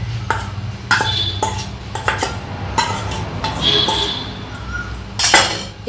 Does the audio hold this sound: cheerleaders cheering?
no